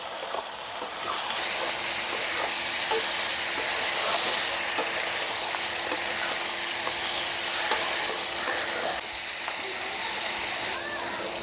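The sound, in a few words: ground spice paste frying in pan for dal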